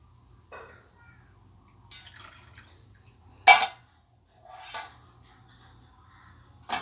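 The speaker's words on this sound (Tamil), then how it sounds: "மண் தூசி இருக்கும், வடிகட்டிக்கிடுவோம்." Jaggery syrup is strained through a filter while making appam, with sparse clinks of utensils and short splashy pours and drips separated by near silence.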